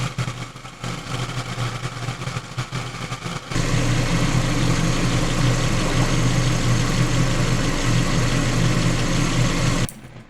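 A Hyundai i30 FD engine idles steadily while warming up after a thermostat and coolant replacement, a loud continuous low hum that grows fuller partway through and drops off at the very end, with no talking.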